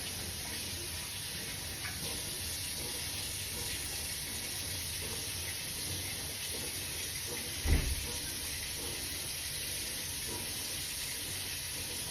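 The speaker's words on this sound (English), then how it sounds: "Let me wash my hands." Running tap water pours steadily as hands are washed in a home kitchen sink during dinner cooking, a continuous close hiss broken by one brief bump midway.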